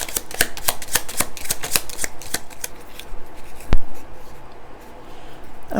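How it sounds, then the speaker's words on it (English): A deck of tarot cards is riffle-shuffled several times in quick rhythmic bursts of crisp flutters, close and loud, followed by a single sharp tap and quieter handling. "So I'm going to shuffle a couple of times"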